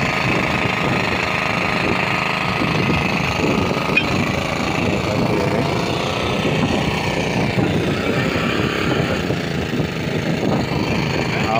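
A bore well drilling rig grinds steadily during drilling for a shallow well on a red shallot farm, a loud continuous rumbling, pounding drone with no pauses and no talk.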